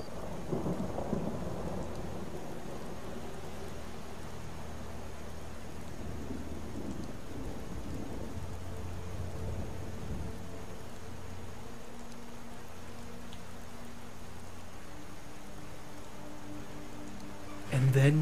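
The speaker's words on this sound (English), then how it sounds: "It's like standing in the rain and it's all dark." Steady rain with low rumbling thunder in the video game Skyrim, a continuous dark storm bed that stays fairly even throughout, with a brief louder burst at the very end.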